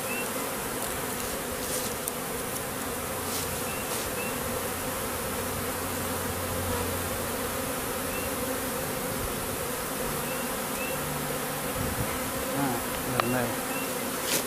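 A swarm of honeybees outdoors in April gives a dense, continuous buzzing hum that stays steady and fairly loud throughout, with no clear talk over it.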